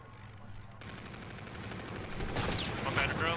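Gunfire in a first-person shooter game during a hardpoint match, a dense rattle of shots building louder toward the end after a quiet start.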